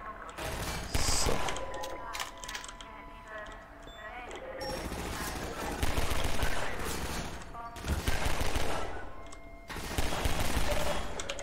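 Gunfire in Half-Life 2 against Combine soldiers: repeated bursts and automatic volleys rise and fall across the stretch, loud and busy, with someone speaking at times among the shots.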